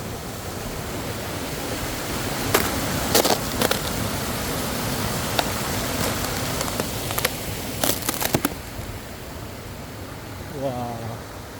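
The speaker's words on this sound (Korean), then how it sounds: "물소리가 너무 좋아요" A stream at a campground in a forest recreation area in winter, a steady broadband rush of flowing water filling the whole clip, with brief clicks and a faint voice near the end.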